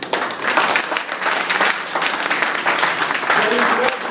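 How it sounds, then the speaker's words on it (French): An audience applauds through the whole stretch, loud and dense with some surging, and voices blend into the noise of the crowd. "je vais vous demander de l'applaudir"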